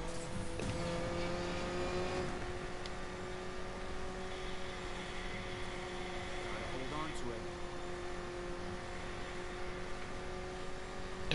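Mercedes-Benz AMG A 45 hatchback engine in the racing game Need for Speed Payback, a steady loud drone with harmonic tones running throughout, mixed with music and someone talking over it.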